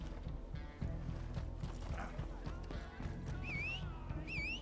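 Horse hooves clip-clop in the video game Red Dead Online, a steady trotting rhythm close by, joined near the end by a couple of whinnying neighs.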